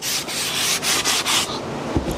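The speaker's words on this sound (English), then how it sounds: "What we're trying to do is get out all those little swirl marks from the sander." Bent plywood chair being hand sanded, with a rhythmic scratchy rubbing of abrasive on wood in repeated close strokes, fading out near the end.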